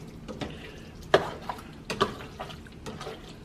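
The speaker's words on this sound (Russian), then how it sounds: "Еще немножечко перемешиваем" Seafood fra diavolo pasta being stirred in a pan, with a few distinct clinks and scrapes of a utensil against the pan over a faint low sizzle, close and fairly quiet.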